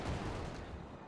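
Dense, continuous battlefield din from a Panzer IV tank firing in the real-time strategy game Company of Heroes 2, with heavy rumbling blasts and crackling gunfire packed together at a moderate level and no clear gaps.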